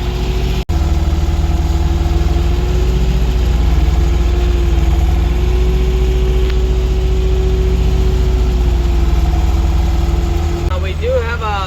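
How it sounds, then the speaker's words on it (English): A tractor engine idles loudly and steadily up close on a dairy farm during hay baling, a constant low chugging drone throughout with a brief click near the start. "That's the tractor out here."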